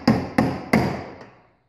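A hammer strikes a chisel wedged into a toy police car being converted to RC, landing three sharp, evenly spaced blows up close, each ringing out briefly before a faint final tap.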